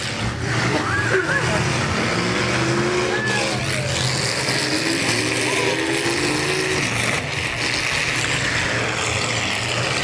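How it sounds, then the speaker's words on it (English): Demolition derby cars at a North Battleford event revving engines and grinding against each other, loud continuous motor roar with skids and scraping, while an announcer talks over the crowd. "All 5 cars still rolling it out here."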